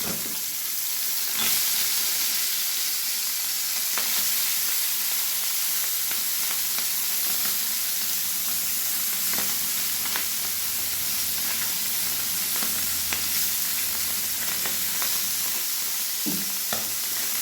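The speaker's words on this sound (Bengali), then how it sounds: "এবার তেল গরম হয়ে এসছে, মাছগুলো আমি দিয়ে দিচ্ছি এক একে।" Tangra fish sizzle and spit as they are dropped one by one into hot mustard oil in a kadai, a steady broadband frying hiss throughout with occasional sharper crackles and pops, close and continuous with no talking.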